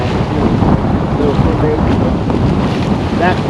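Strong wind buffets the microphone over open water on the St. Lawrence River, with a rough continuous roar and waves slapping underneath.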